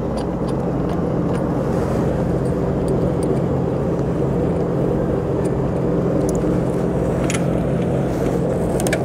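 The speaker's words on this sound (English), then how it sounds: "hold down the on button, start the ski, tap it in forward" A jet ski engine idles steadily on its trailer, a loud, even motor drone with no pauses, joined by a few faint metallic clinks near the end.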